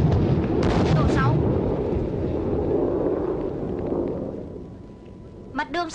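Bombs explode in a Vietnamese war film set at Đồng Lộc junction. Heavy booming blasts roll and rumble loudly for several seconds, fading toward the end, where brief voices cut in.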